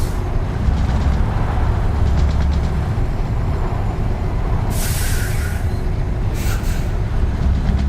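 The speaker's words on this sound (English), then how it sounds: "Oh, I love this engine sound," A Scania truck engine in Euro Truck Simulator 2 holds a steady, deep low drone throughout, with two short bursts of air hiss breaking through near the end.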